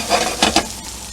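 White mushrooms sauté in hot oil in a pan, a steady close sizzle with a few louder scraping stirs cutting through partway, no voices.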